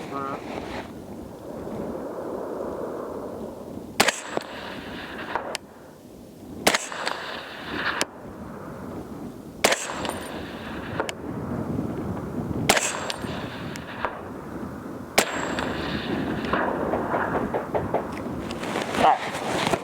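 PSA M110-A1 .308 rifle firing 175 grain Varog OTM rounds outdoors: six sharp, loud shots spaced a few seconds apart, each cracking over steady wind noise with a brief echoing tail.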